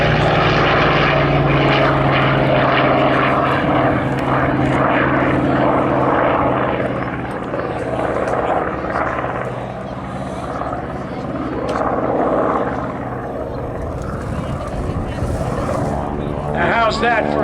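A Goodyear FG1 Corsair propeller fighter at a World War 2 weekend air show roars past. Its loud, rough engine drone swells and dips over about seventeen seconds, then rumbles off into the distance.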